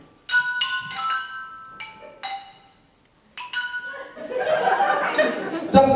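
Spoons strike handheld objects in a stage human xylophone act, giving bright ringing clinks in a few separate notes, then an audience laughs and chatters.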